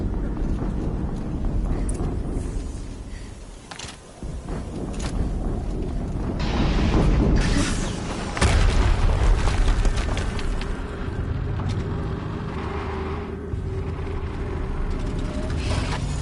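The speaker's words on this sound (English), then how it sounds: "Another explosion." Explosions in the video game Horizon Zero Dawn: heavy rumbling booms roll through a loud, continuous game soundscape, with a big blast standing out midway and a low mechanical drone underneath, no voices heard.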